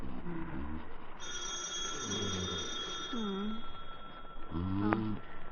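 A telephone rings in a radio drama, a sustained bell-like tone holding steady for several seconds, with shorter warbling tonal calls around it and a background hiss.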